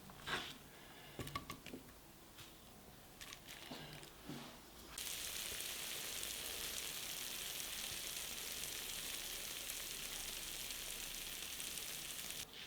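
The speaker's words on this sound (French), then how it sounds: "Dans une poêle, j'ai mis de l'huile d'olive et je vais mettre à rissoler les tomates ainsi que les oignons" Tomatoes, onions and other vegetables dropped into hot olive oil in a frying pan, a few clatters and then a loud, steady close sizzle that carries on to the end, no voices.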